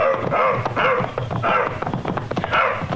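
A dog barking as a sound effect in the 1951 radio drama Tales of the Texas Rangers: several close, loud barks and yips in an uneven rhythm, with short whimpering sounds between them and no talk.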